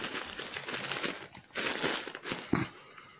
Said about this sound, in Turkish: şuradan kapatmadan önce elyaf dolduralım